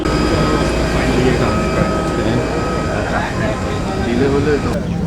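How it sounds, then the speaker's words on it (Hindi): Inside a passenger plane bound for Kuala Lumpur, the cabin fills with a loud, steady rumble and roar as the aircraft starts rolling toward takeoff, with someone talking over the engine noise. "दोस्तों विमान चल पड़ा है और उड़ान भरने के लिए अब तैयार है।"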